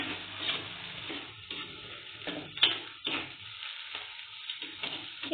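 Curry leaves, green chilli and coriander frying in a pan for a chicken gravy, with a steady soft sizzle broken by repeated spoon-stirring scrapes and one sharper clink, close and moderately quiet, no talking.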